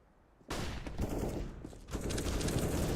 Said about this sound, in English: Grenade out. Deploying flashbang.